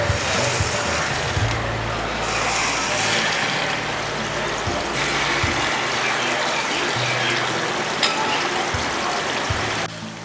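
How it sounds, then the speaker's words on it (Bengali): Jackfruit fritters (kathaler bora) dropped a few at a time into oil heated over a medium flame, giving a steady, loud, dense frying hiss with no talk. "বড়াগুলো আমি এভাবে অল্প অল্প করে দিয়ে আমি ভেজে নেব।"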